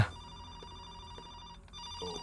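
A telephone ringing in the horror driving game The Phone, a steady electronic trill over a low droning background, moderately loud and without speech.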